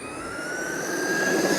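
Brushless motor of a Traxxas Summit RC truck whining loudly and steadily, a high rising electric tone over gritty running noise, close and alone.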